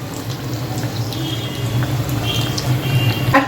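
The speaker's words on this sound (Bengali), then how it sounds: "লো ফ্লেমেই ভাজবো, না হলে চিকেনের ভেতরটা কাঁচা থেকে যাবে।" Chicken cutlets fry in oil over a low flame, giving a steady, soft, close sizzle with faint bubbling and crackle that continues throughout.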